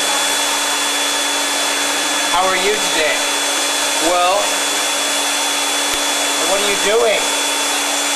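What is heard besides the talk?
vacuum cleaner running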